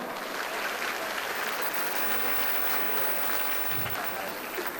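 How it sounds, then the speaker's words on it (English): Steady audience applause at an evening show, a fairly soft, even wash of clapping that holds without a break for several seconds. "All right, the applause was not too bad"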